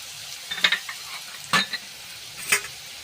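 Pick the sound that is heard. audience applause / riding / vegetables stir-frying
vegetables stir-frying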